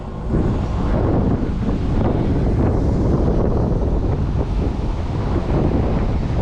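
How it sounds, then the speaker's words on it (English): Strong wind buffets the microphone outdoors on a street in Paramaribo, making a loud, continuous low rumble that fills the whole stretch with no speech over it. "the wind!"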